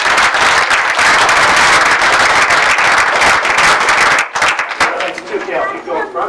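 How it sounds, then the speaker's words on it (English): People at a borough council meeting give loud, close applause for children, energetic clapping that runs for about four seconds and then breaks off into voices and chatter. "if we can have one more round of applause for our kids."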